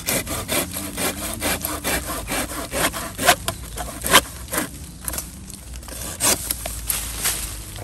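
A hand saw cuts through a branch of a Beuvronensis pine during thinning, making steady rhythmic rasping strokes up close, loud and clear with no talk over it.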